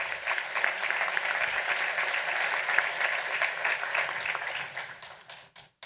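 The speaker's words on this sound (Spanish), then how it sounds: "Se merecen un fuerte aplauso cada uno de ustedes." Steady audience applause at a parliamentary panel, a dense stretch of clapping that fades out and ends in a few last claps.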